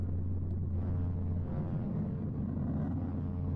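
Space sound recording attributed to the planet Mercury: a steady low droning rumble with a deep hum, like distant jet engines, continuous and unchanging with no voices.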